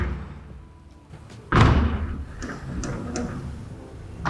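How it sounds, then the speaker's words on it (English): A glass door in a designer home thuds open with one sharp, loud impact, followed by a few faint ticks and clicks of the frame and latch in a quiet room. "I will open the other glass door and go through the backyard"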